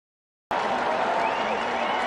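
A baseball stadium crowd cheers and claps for a strikeout during a White Sox home game against the Tigers, a dense roar of voices that bursts in suddenly and holds steady, loud and broad.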